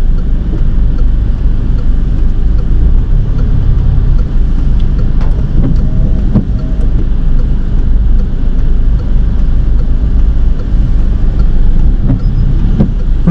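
A car drives through heavy Friday afternoon traffic on a three-lane roundabout, with a steady, loud road and engine rumble, wind buffeting the microphone, and faint clicks, with no speech.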